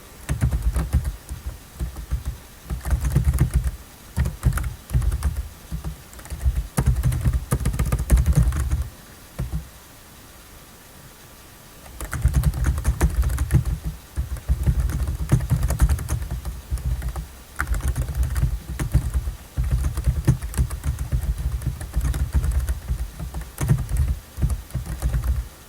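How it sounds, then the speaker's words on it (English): Fast, steady typing on a computer keyboard clatters up close in long bursts, with a short pause around a third of the way in before the keystrokes resume. "we're going to press spacebar once, and we're going to key in the following text"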